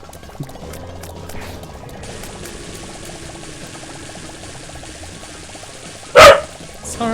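A dog in the room barks once, loud and close, in a sharp burst near the end, over quiet game sounds in the background.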